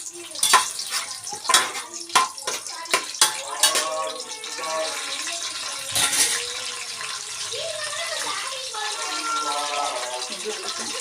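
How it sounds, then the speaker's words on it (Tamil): Star anise, stone flower and bay leaf sauté in a pan for chicken biryani: scraping stirs and a soft sizzle, with a voice talking over the cooking. "இது அன்னாச்சி பூ, கல்பாசி, பிரியாணி இலை போட்டாச்சு. இது கொஞ்சம் நல்லா வதங்கி வரட்டும்."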